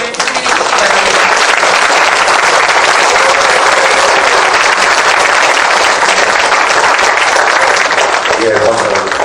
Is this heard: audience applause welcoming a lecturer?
yes